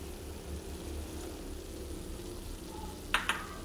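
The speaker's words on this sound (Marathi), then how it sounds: "आणि ते हलवून घेऊया चांगलं" Thick coconut barfi mixture with cardamom powder stirred in a pan, a low steady sizzle and scraping under the stirring, with a couple of sharper clinks of the spoon near the end.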